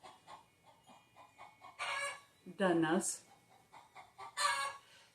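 A hen lays an egg outside the back door and clucks loudly in a few short bursts, with one rising squawk. Someone speaks quietly between the calls.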